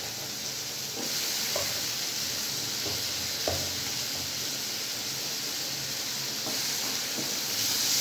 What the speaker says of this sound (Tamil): தக்காளி சேர்த்து நல்லா வதக்கி விட்டுக்கோங்க.